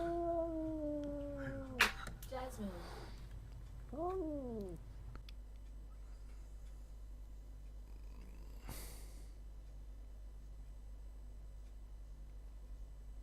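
A cat gives a couple of drawn-out, wavering meows close by early on, followed by a shorter meow, then only a faint background hum with one brief rustling burst.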